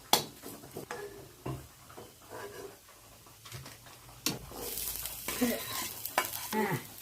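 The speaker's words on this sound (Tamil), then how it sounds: "வெங்காயத்தை கொஞ்சம் வதக்கிக்கோங்க." Onions sautéing in oil in a pan for a manathakkali greens thuvaiyal, a soft sizzle with scraping stir strokes that grow louder and busier toward the end, no talk.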